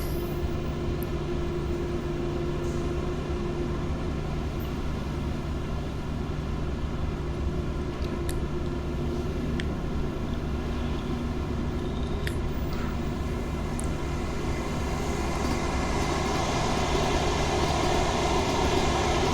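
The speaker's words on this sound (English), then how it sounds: "two trains going past each other" Two trains pass each other in Train Sim World 2 on a London commuter line, a steady loud rumble of wheels and motors holding throughout with faint high squeals and clicks, no voices.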